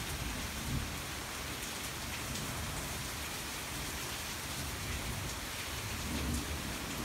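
Steady summer storm rain patters on a nearby window screen, a dense continuous hiss with soft irregular drops throughout and no talking.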